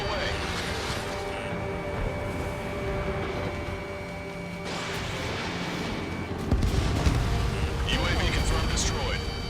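A missile launches and explodes in the Ace Combat 7 video game, heard as a heavy, rumbling burst that swells late in the clip. It plays over busy game voices and a steady musical backdrop.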